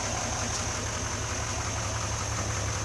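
A 2017 GMC Sierra Denali dually pickup with the L5P Duramax diesel idles steadily with a low, even rumble, heard close and constant with no talking.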